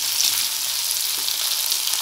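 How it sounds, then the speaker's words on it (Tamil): Dried red chilies frying in hot oil for shallot chutney, a bright steady close sizzle with light stirring, alone and even for the whole stretch. "எண்ணெயில் பட்டு அந்த வரமிளகாய் வந்து கொஞ்சம் வதங்குற மாதிரி இப்படி வதக்கி விட்டுக்கலாம்"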